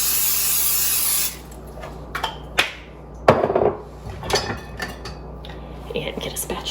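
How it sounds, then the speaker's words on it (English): Generic Pam cooking spray hisses in one steady burst of about a second as it greases a casserole dish. Kitchen clatter and light knocks of dishes and utensils follow. "you're gonna wanna grease that. I'm just using some generic Pam."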